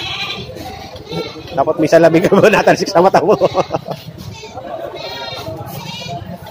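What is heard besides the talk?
goats bleating at livestock market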